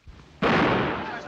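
A single loud blank-cartridge gunshot bursts out abruptly and rings on with a broad, sustained blast, preceded by a faint low thump in an old 1939 comedy film scene.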